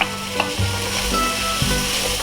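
Capsicum sizzles and crackles steadily in a hot pan while being stirred, loud and close, with no voices.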